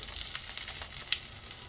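Pomfret fish fries in a pan with a steady, close sizzle of hot oil, crackling bright and continuous with a few sharper pops, and no talking.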